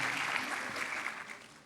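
Applause from a church congregation welcoming a guest at a morning service, a soft, steady spread of many hands clapping, somewhat distant and fading slightly toward the end.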